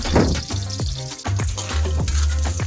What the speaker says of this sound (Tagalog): then saute garlic